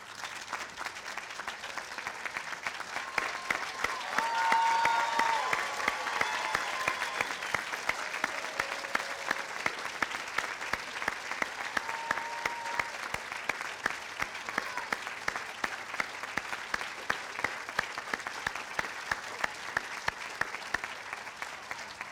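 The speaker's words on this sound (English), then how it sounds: "Students, please return the love and applause to your families for their tireless care and support." Sustained audience applause at an 8th grade promotion ceremony, many hands clapping steadily at moderate distance for over twenty seconds, swelling early then continuing evenly without talk.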